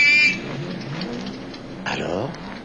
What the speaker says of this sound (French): vous entendrez retentir le klaxon de coccinelle